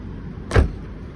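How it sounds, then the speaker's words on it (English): A soft-close boot lid on a well-kept used car settles shut with a single muffled thud, close by and brief, rising out of quiet background hum and fading quickly. "Soft close on the boot."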